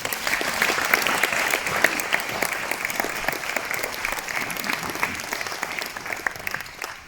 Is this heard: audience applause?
yes